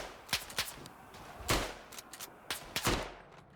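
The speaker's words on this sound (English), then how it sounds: "the straight pull bolt of this rifle makes it so fast to fire" Straight-pull bolt-action rifle fire in the WWI game Tannenberg: several sharp reports in quick irregular succession with bolt clicks between them, fairly close and loud, no voices.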